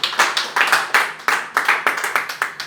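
A church congregation claps hands together in rhythm, about a dozen sharp, fairly close claps in a loose steady beat with no talking.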